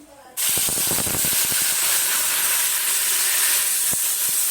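Raw spinach hits hot oil in a kadai with a sudden loud sizzle. Steady hissing follows, with scattered crackles and pops, and no voices.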